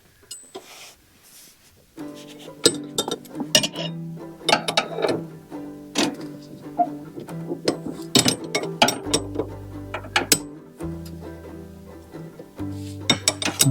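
A ratchet wrench clicks in quick repeated bursts while tightening nylon-insert nuts on a lawn tractor's steering rack, close up, with metallic clinks between the bursts.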